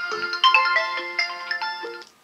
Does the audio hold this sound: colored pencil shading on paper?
no